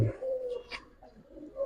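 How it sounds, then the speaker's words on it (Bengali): A pigeon coos softly with a low, throaty call, close by, in a short stretch with a faint chirp midway. "খুবই ভালো মানের একটা কবুতর"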